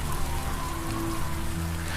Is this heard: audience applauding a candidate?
no